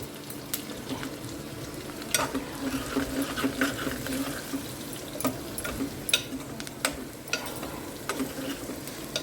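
Onions fry for a vegetable curry, giving a steady soft sizzle and watery crackle in a pan, with scattered scraping clicks from stirring and no voices.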